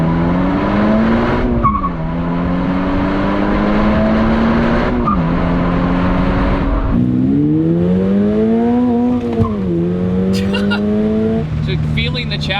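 A 2022 Subaru BRZ being driven hard on a mountain road, its engine note loud and close, rising and falling through repeated shifts and revs, with brief tire squeal and voices talking over it.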